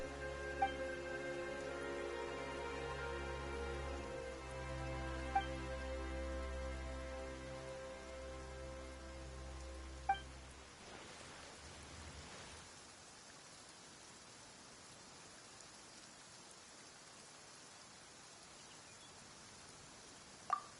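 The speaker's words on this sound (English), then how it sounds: "Why is it raining all of a sudden?" Steady rain falling in Genshin Impact, a soft continuous hiss that persists after the background music fades out, with a few faint drop ticks.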